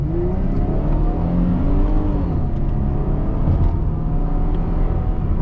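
A Chevrolet Camaro 1LT V6 with automatic transmission pulls hard along a straightaway, its engine droning loud and steady as the pitch climbs slowly under constant road and wind noise, heard from inside the cabin.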